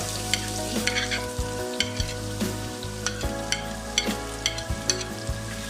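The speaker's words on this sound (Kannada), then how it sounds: "ಈಗ ಇದನ್ನು ಗೋಲ್ಡನ್ ಕಲರ್ ಬರೋದ್ರಿಂದ ನಾವು ಫ್ರೈ ಮಾಡ್ತೀವಿ" Chopped onions sizzle steadily in hot oil after mustard seeds, with scattered pops and occasional scraping from stirring, close by and over a constant tonal hum in the background.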